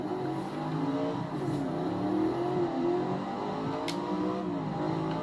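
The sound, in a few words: General Lee car engine revving while driving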